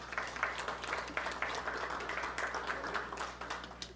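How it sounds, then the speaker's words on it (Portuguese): An audience at a public hearing session claps in welcome, producing a sparse, moderate patter of hands heard at a middle distance and holding steady throughout. "uma salva de palmas para você."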